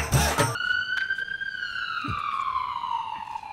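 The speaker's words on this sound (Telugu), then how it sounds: "మహామంత్రి, అంబులెన్స్ తో సౌండ్ ఎందుకు వచ్చినది?" After a brief noisy burst, a single ambulance-style siren tone wails and slowly slides downward in pitch, clear and fairly loud over a faint background, with no speech.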